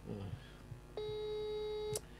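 Telephone ringback tone while calling a friend, with a single steady electronic tone lasting about a second that sounds after brief faint background talk and ends with a soft click.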